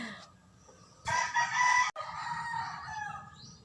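A chicken crows loudly and clucks nearby, a drawn-out call followed by a shorter cry, with soft background noise between.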